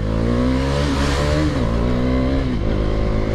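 A motorcycle engine revs hard during a wheelie, its rising and falling throttle tones loud and close over a few seconds.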